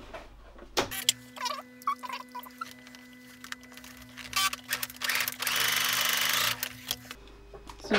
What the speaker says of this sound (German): Denn jetzt nähst du mit einem normalen Geradstich hier über unsere eben markierte Linie drüber.